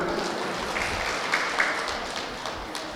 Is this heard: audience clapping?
yes